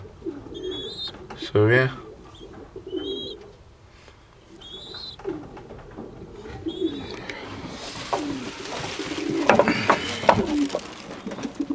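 Three-week-old feral pigeon and dove chicks give repeated soft coos and squeaky calls nearby, with a person talking over them and a rising rustling clatter toward the end.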